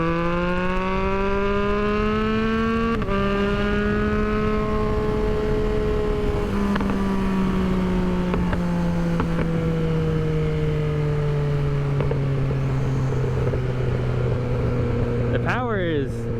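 A 2022 Yamaha XSR900 motorcycle engine with a cut exhaust drones steadily, its exhaust note falling slowly as it settles, with a sharp throttle blip at the end while someone talks over it.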